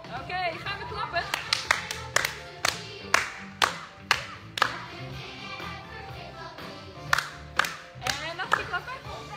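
Rhythmic hand clapping during a warm-up to music in a live gym lesson, with sharp claps at an uneven beat over the music and occasional soft thuds, while someone talks now and then.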